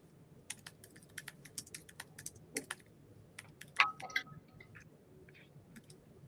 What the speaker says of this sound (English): I'm just going to type any comments in here